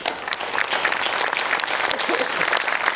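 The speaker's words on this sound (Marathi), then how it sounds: "जोरदार टाळ्या आपल्या समीर चौगुले यांच्यासाठी" An audience at a Marathi comedy show award event claps loudly, dense sustained applause from a crowd filling the whole stretch without pause.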